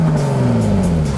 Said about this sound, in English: Everything about Jaguar cars is carefully considered and engineered, right down to the sound of the engine.